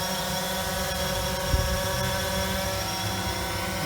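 Small prototype drone with an altimeter-based flight tracker, hovering nearby; its propellers give a steady, loud, even buzz with layered motor whine and no pauses throughout.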